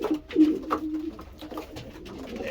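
A racing pigeon, a 350-mile derby finisher, coos softly nearby in a few low, throaty bursts with faint background noise and no talking.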